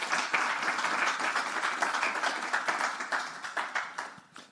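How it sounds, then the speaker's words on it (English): An audience at a COP27 side event in Egypt applauds, a fairly quiet ripple of many hands whose separate claps show through the steady patter before it fades out. "Let's provide some applause."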